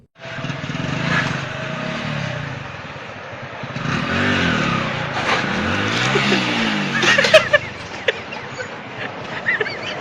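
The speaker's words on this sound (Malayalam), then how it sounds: "ഇനി നമുക്ക് മികച്ചൊരു ബൈക്ക് സ്റ്റണ്ട് കാണാം" A motorcycle engine revs and whines in rising and falling sweeps during a bike stunt, close and fairly loud, with clattering noise toward the end.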